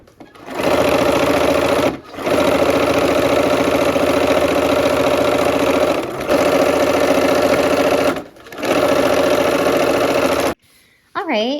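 Quilt block's last seam being sewn on a sewing machine, a loud steady mechanical whir running in three long bursts with brief pauses between, then stopping near the end.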